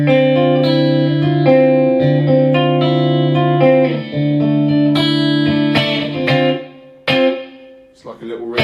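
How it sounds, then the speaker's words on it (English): An electric guitar runs through the momentary reverb effect of a Boss ME-70 multi-effects pedal. Sustained chords ring out with a short reverb tail, then a few plucked notes fade away. "It's like a little reverb."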